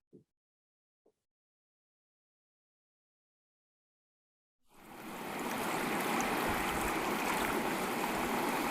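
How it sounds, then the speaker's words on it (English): Running water from a stream plays in a video, starting abruptly after near silence and a couple of faint clicks, then rushing steadily and fairly loud until the end. "Can you hear like water running?"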